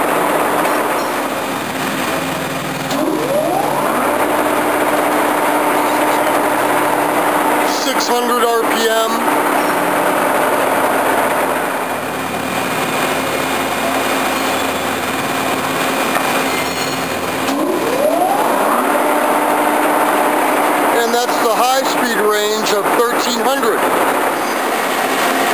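Giddings & Lewis 340-T table-type horizontal boring mill, a 4-inch machine, with its spindle turning at low speed in a shop: a steady mechanical hum and drone with periodic rising whine and clattering bursts, while someone talks over it.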